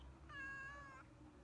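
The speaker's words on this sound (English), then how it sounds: "a cat is meowing at me" A cat gives a single short, faint meow, a clear tonal cry lasting under a second over quiet background hiss.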